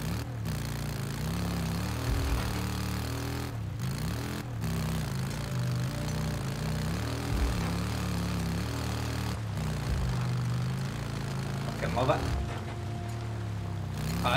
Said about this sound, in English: Oh, my motorbike sounds real better now